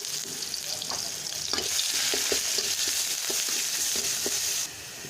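Spice paste of garlic and onion paste with bay leaf, cardamom and cinnamon sizzles in a pan after eggs are fried, with bright continuous frying hiss and repeated spoon-stirring scrapes that swell after a second and ease off near the end.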